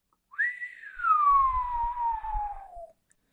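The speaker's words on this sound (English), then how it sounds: "And here's a whistle." A single long human whistle rises quickly, then glides slowly downward for about two and a half seconds, close and clear, with faint low rumbling underneath.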